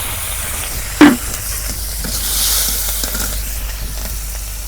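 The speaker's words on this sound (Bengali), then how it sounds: "তেল গরম হচ্ছে, এখন আমি দিয়ে দিব পেঁয়াজ কুচি, কাঁচা মরিচ কাটা দিলাম" Chopped onion and green chili hit hot oil while fish is being cooked, giving a steady moderate sizzle with one sharp burst near the start as they drop in and a gentle swell of frying hiss midway, no voices.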